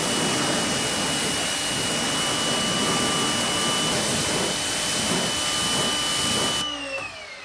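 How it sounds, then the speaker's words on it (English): A steady, loud water spray rinses a car's tires and wheels, a continuous hiss with a pressure-washer-like drone that holds for several seconds before cutting off abruptly near the end. "All right, time to rinse."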